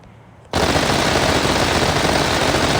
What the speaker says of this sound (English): Let me show you with the machine gun, for example.